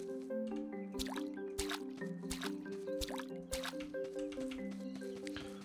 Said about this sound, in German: Muss nicht gegossen werden, wir gießen es trotzdem.